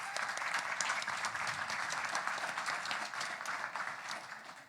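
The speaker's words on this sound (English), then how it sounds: "So a round of applause for them, please." Audience applause at a Libertarian Party of California convention, a steady dense clatter of many hands clapping for several seconds, even and sustained before tapering slightly at the end.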